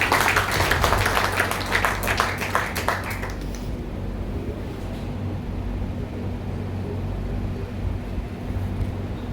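An audience at a Brahma Kumaris ashram event applauds IPS officer Jatin Narwal, a dense burst of clapping for about four seconds that then fades into a steady hum of hall noise.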